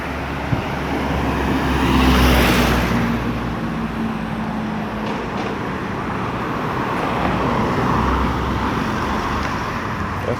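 Steady street traffic and passing buses rumble near the bus depot in Bridgetown, Barbados, a continuous moderate roadway wash with a vehicle swelling closer for a moment, with no talk.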